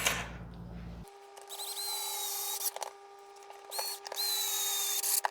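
A power screwdriver drives screws into parts of a 3D printer's MMU3 multi-material unit for a Prusa MK4, whining in several short close bursts with brief pauses between them.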